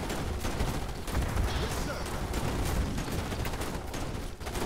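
Dense, continuous assault-rifle gunfire from Marine infantry squads in the strategy game Starship Troopers: Terran Command, overlapping bursts crackling without pause.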